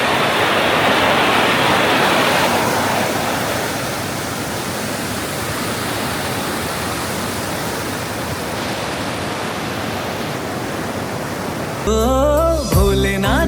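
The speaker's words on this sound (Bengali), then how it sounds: "শীষনাগ পর্বত থেকে যে জল আসছে, তো ওটা একবার দেখো।" Mountain stream water rushing down from Sheshnag mountain near Chandanwari in Kashmir, a steady loud roaring wash of flowing water close by, joined near the end by a brief burst of music.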